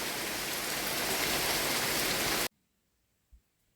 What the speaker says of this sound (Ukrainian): слава Богу, дощ пішов